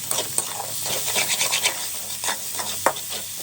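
Small sambar onions frying in a pan with salt until golden, stirred with repeated scraping strokes over a bright, steady sizzle, close and busy without any talk.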